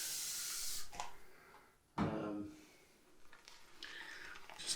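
Water misted from a spray bottle onto shaving lather, heard as a few short hissing spritzes close by, with a quiet pause between bursts.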